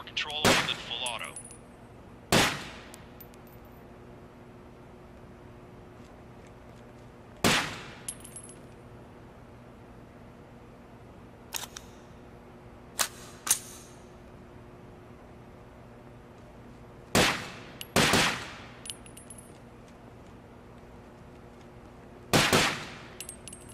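Sparse gunfire from the shooter game Takedown: Red Sabre, sharp single shots and short bursts cracking out at irregular intervals over a steady low background hum, with a few quieter distant pops between them.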